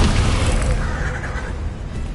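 A Bombarda explosion spell cast in Hogwarts Legacy lands as a loud, rumbling boom with a short crash, in a noisy game scene.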